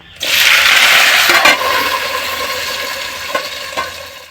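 Eggplant and potato pieces tipped into hot oil in a pan over a village wood-fired stove burst into a loud, steady sizzle that slowly settles, with a few stirring knocks near the end and no talking.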